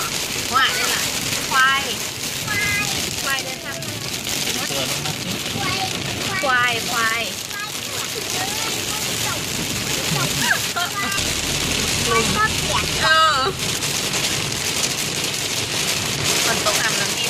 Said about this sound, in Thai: ฝนตกฝนตกนะ